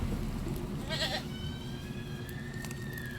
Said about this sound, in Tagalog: Ayan, sumisigaw ang kambing.